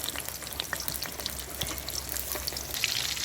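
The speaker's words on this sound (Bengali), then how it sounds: "ফোটনে দেবো শুকনো লঙ্কা দারচিনি লবঙ্গ তেজপাতা পাঁচফোড়ন আর জিরে ফোড়ন সবকটাই আমি একসাথে দিয়ে দেবো" Dried red chilli, cinnamon, cloves, bay leaf, panch phoron and cumin sizzle together in hot oil in a home kitchen, a close, steady crackling fry with small pops scattered across it.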